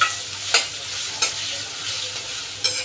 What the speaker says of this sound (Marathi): आता आपण ह्याच्यामध्ये कांदा टाकूया। कांदा चांगला परतून घ्यायचा आहे